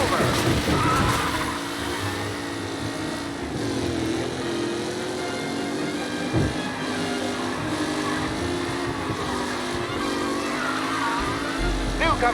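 Racing car engines roar steadily in Mafia Definitive Edition, a race with several cars close together, engine drone loud and continuous with shifting pitch, while a voice speaks over the noise.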